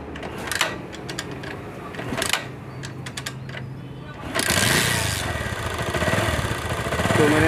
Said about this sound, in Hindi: और बाइक को स्टार्ट करो।